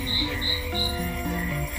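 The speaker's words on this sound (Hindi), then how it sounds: "रास्ते की झाड़ी में से रात के कीड़ों और मेंढकों की आवाजें बड़ी ही तेज आ रही थी।" Frogs croak and night insects chirp from roadside bushes after dark, loud and close, with a pulsing high trill repeating above a steady chorus of lower croaks.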